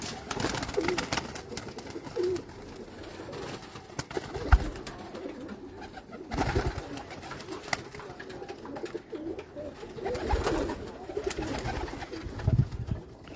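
Pigeons coo softly and repeatedly at close range among low outdoor rustles and thumps, with occasional louder bursts of calls and a faint voice in the background.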